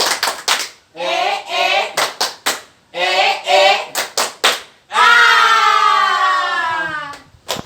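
A group claps in a rhythmic pattern of quick bursts, pausing between sets, then ends with a long cheer of many voices.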